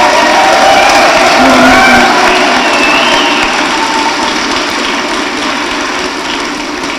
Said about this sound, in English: help me thank Mr. Mike McLean once again by giving him a big round of applause